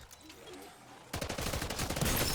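An RGL grenade launcher fires in the zombies mode of Call of Duty: Modern Warfare Zombies. After a quiet opening, a loud booming blast arrives with rapid rumbling follow-up bursts that keep going to the end.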